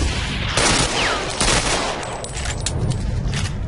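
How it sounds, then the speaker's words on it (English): Bursts of automatic gunfire in the online shooter Ghost Recon Phantoms, loud rattling volleys that come and go in clusters over a constant battle din. "They're shooting me from where?"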